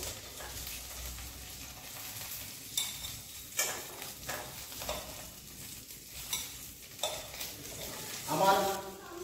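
Mourola fish paturi frying in a pan gives a faint, low sizzle broken by repeated scrapes and clinks of a utensil against the pan, irregular and close, with a louder clatter near the end.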